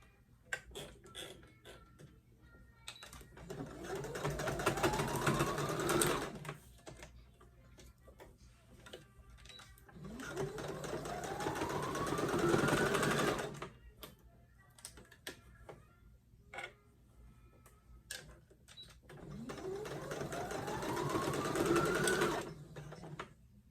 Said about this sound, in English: just going to put it underneath your machine. I'm going to use a straight stitch to hem it.